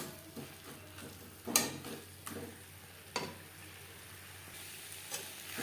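Pointed gourd being stirred with spices in a pan over high to medium flame, giving a faint, low sizzle with a few soft scraping and clinking strokes spread across the stretch.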